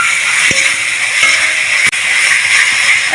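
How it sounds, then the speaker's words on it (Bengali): Kohlrabi and potatoes are sautéed in a pan for a rohu fish curry with peas, giving a loud, continuous sizzling hiss. A few sharp clicks of stirring against the pan cut through it. "ওলকপি আলু দিয়ে খুব ভালো করে কষিয়ে নেব"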